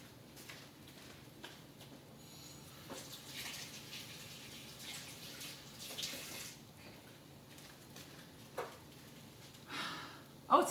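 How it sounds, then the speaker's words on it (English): Tap water runs steadily into a kitchen sink while something is rinsed during vegan tempeh and peanut sauce cooking, a faint gushing hiss with occasional clatter. "Let me rinse this off."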